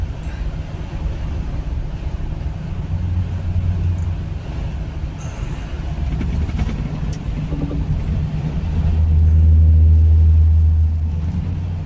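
Car tyres crossing a painted white road line on a drive through a drought area near Barcelona, Spain: a steady road rumble swells twice into a deeper droning hum, the second pass louder and longer.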